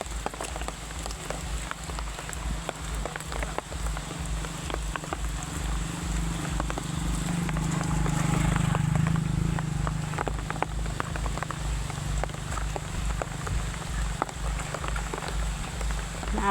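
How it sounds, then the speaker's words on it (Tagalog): Steady rain pours down, pattering densely on surfaces with a low rumbling undertone, continuous throughout and moderately loud. "Naabtan jud mi diri sa kusog nga ulan."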